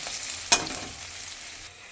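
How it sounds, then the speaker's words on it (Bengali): Food frying in a pan sizzles steadily and fairly close, with one sharp clatter or stir near the start before the hiss settles and eases off slightly toward the end. "ভালো করে ভেজে নিচ্ছি"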